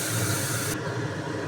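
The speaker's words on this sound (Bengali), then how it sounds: "একটু চিংড়ি মাছ ভেজে দিচ্ছি" Shrimp frying in mustard oil give a dense, loud sizzle that fills the first half, then thins to a softer, steady hiss.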